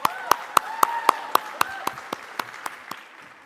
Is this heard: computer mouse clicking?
no